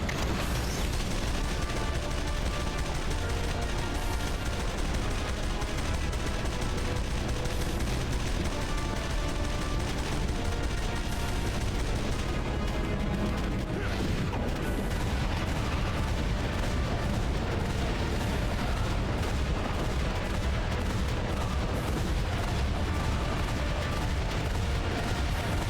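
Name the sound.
missiles being fired in the video game Jak and Daxter: The Lost Frontier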